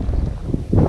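Gusty wind on a cloudy day at a fishing spot buffets the microphone in uneven bursts, a low rumbling roar that swells louder near the end.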